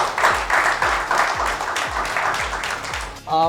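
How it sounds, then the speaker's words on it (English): Audience applause and clapping at a business promotion event, a dense burst of many hands clapping close by that fills the whole stretch, ending with a short louder flurry. "Clap hands for that, because that's very important."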